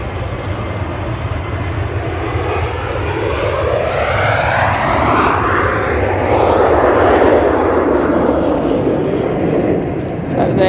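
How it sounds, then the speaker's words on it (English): Jet2 Boeing 737 jet taking off at Manchester Airport on a winter flight, a broad steady roar that swells and sweeps past over about ten seconds, loud and close, with faint talk in the background. "So that was a Jet 237 off to Catilla on one of the winter flights there."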